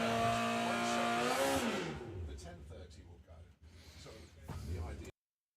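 A junior dragster launches and accelerates down a drag strip at a race event, its engine note sweeping upward loudly at first and then falling away into the distance as it runs off, with crowd and track noise trailing behind.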